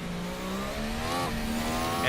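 Hybrid Formula race car from 2018 accelerating in a racing video game, a loud, rising engine whine that climbs steadily through the gears with one brief shift dip, close and continuous.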